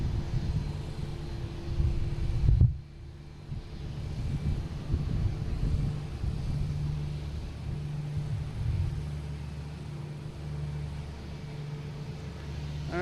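A Lufthansa Airbus A380 inbound from Munich lands at Boston Logan, a steady low jet rumble with wind buffeting the microphone, moderately loud and continuous, with a sharp bump about a quarter of the way through.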